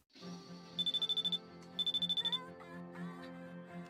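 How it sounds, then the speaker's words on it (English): An incoming-call ringtone in Persona 3 Portable trills in two rapid electronic bursts, clear and prominent over soft game music. "Ona's ringing. Is it Junpei"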